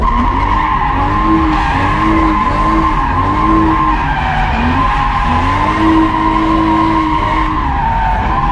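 Car drifting around cones, tires skidding with a continuous loud squeal that wavers in pitch over a steady roaring engine, with no pauses.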